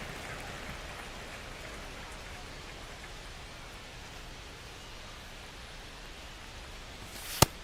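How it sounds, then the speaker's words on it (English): Steady rain hisses over a baseball stadium in MLB The Show 25, a constant, even wash of noise with a single sharp tick near the end. "This rain is not letting up."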